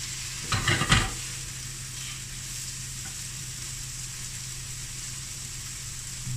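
Bacon frying in a non-stick pan, a low steady sizzle throughout with a short burst of scraping from a silicone utensil near the start.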